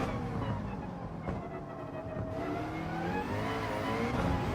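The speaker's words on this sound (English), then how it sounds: "Short shifting in a McLaren." Race car engine of a McLaren in Gran Turismo 7, revving steadily with rising and falling pitch as gears are short shifted, loud and close throughout with no talk.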